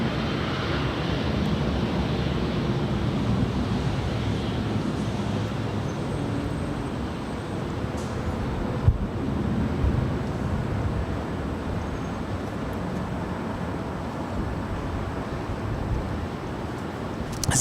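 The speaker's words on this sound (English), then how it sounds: "This is that Air France 777-200ER that actually was delayed about 3 hours here today." An Air France Boeing 777-200ER jet takes off at Los Angeles airport, a steady, broad roar of engine noise that holds for a long stretch at a moderate distance, with a faint thump partway through.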